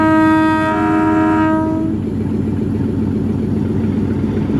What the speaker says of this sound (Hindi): बाल्ठेर रेलवे स्टेशन से मूव हो गई है रावलपिंडी पैसेंजर